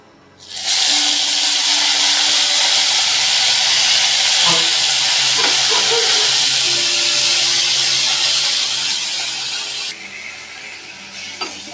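Fresh coriander leaves dropped into a hot pan for coriander chutney, a loud, close burst of hissing sizzle that holds steady for several seconds before easing off, with faint background sounds.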